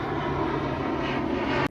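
A fixed-wing airplane drones steadily overhead, a constant engine hum that stays even throughout and then cuts off abruptly at the end.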